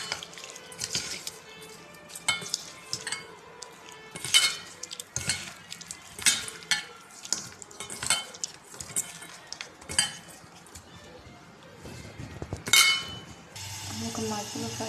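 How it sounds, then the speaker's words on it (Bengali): Raw fish being mixed by hand with salt, turmeric and chili powder, with repeated clinks and scrapes against a metal dish or utensil in an irregular rhythm, close and fairly quiet, plus some faint background sounds; no talking. "এখানে আমি মাছের মধ্যে দিয়ে দিচ্ছি নুন, হলুদ আর মরিচের গুঁড়া। এখানে আমি মাখিয়ে নেব"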